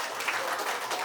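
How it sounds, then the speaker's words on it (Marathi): People clap hands during a children's big fish, small fish game at a family birthday gathering, a short burst of several hands clapping nearby, moderately loud and brief. "टाळ्या वाजवतात."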